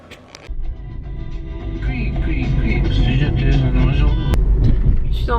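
A car on the move, heard from inside as a steady low engine and road rumble that starts after a short pause and carries on evenly to the end.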